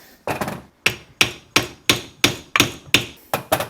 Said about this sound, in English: use one of the adapters and a small dead blow, I think. And we're just gonna kind of tap, tap, tap her in.